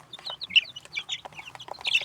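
High, rapid cheeping from a group of chicks feeding in a homemade brooder, overlapping chirps in quick irregular bursts, close by and fairly soft.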